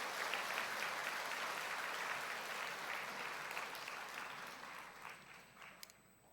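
A church congregation applauding elders and ministry staff, a sustained wash of many hands clapping at moderate distance that gradually fades out over several seconds.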